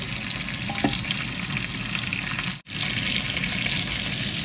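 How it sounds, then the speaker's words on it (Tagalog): Small pieces of pork belly sizzle steadily in a pan for dinuguan while being stirred, with a faint clink of a utensil and a brief cut-out midway. Nobody speaks. "i-mix na natin para maihalo na yung ating maliliit na mga taba-taba na toasted"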